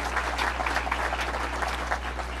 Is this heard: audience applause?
yes